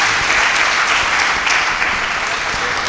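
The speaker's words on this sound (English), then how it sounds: "Can we give Chairman another round of applause?" Audience at a business summit applauding, a steady, moderately loud clapping from a crowd lasting a few seconds without a break.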